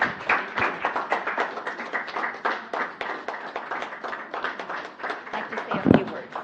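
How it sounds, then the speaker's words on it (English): Steady applause from a crowd at a city council meeting, a dense patter of many hands clapping continuously for several seconds, fairly close. "Let's give him a round of applause"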